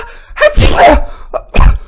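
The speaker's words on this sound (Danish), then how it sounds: "Jeg nøs bare lige, ja." A single sharp, loud human sneeze, a breathy intake followed by an explosive burst and a short trailing exhale, heard up close.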